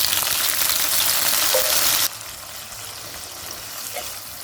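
Cherry tomatoes drop into hot garlic-infused olive oil, setting off a loud, dense sizzle that cuts abruptly to a quieter, steady frying hiss partway through, close up and without talk.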